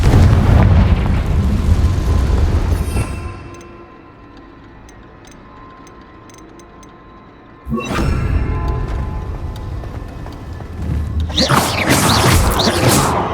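Fiery spell blasts in Hogwarts Legacy: a loud, rumbling explosion fades out, then a second burst roars back and swells into another bright, crackling blast, with game effects ringing between them.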